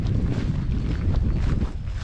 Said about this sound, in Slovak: Ten vetrík vania a nemáte žiadne starosti.